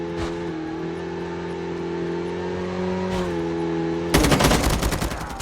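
Unsuppressed M4 gunfire in Call of Duty Mobile battle royale breaks out as a rapid burst near the end, after a steady vehicle engine hum, loud and close with no talk.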